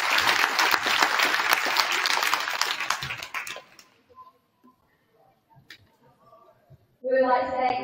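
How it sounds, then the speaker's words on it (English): An audience in a high school gym applauds graduating seniors at a girls' varsity basketball Senior Night, a dense burst of clapping that fades out after a few seconds into near silence before a voice comes in over the speakers. "One final round of applause for our 2024 seniors."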